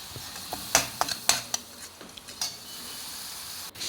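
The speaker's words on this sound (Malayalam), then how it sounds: "അതിലേക്ക് മഞ്ഞളും മല്ലിപ്പൊടിയും കൂടി ചേർത്ത് നന്നായി മൂപ്പിച്ചെടുക്കണം." Turmeric and coriander powder fry in a pan with ginger, giving a soft, steady sizzle. A few sharp utensil clicks and scrapes cut through near the start, and no one speaks.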